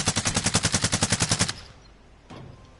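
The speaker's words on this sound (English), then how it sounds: "No, I'm shooting this team now." Rapid automatic gunfire in a PS4 shooter game, a loud burst of about a dozen evenly spaced shots that stops abruptly, followed by a faint lone thump.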